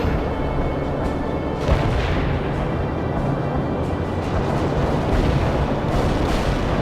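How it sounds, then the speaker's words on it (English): Dense, continuous artillery fire in the real-time strategy game World in Conflict, overlapping booms and blasts forming a loud rolling rumble with scattered sharper impacts throughout. "I just like the artillery in this game"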